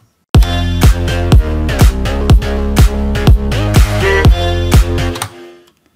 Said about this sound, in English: So the drums and the bass sound together like this.